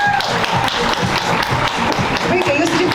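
An audience claps at an awards ceremony, with dense rhythmic applause, loud and close, as people are called up to the stage. Voices and background music run underneath.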